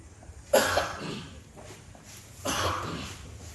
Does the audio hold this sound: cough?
yes